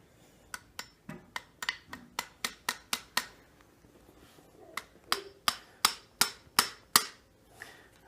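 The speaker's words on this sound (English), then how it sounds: "Mash down on my punch a little bit, and it's as simple as driving that roll pin back in." A punch is struck with sharp, ringing metallic hammer taps to drive a roll pin back into an Encore lug assembly, about twenty blows in two bursts with a short pause between them, close and clear, with no talking.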